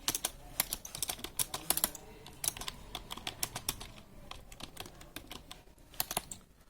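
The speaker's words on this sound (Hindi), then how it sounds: "ये टाइपिंग करने का तरीका होना चाहिए" Rapid keystrokes on a computer keyboard during a typing test demonstration for an SSC skill exam, clicking in an uneven, steady stream of close, crisp taps with no speech.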